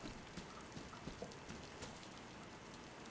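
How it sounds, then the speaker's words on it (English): Steady rainfall in the survival video game DayZ, a dense even patter with scattered louder drops, continuous and fairly faint with no talking. "And look, it's raining too"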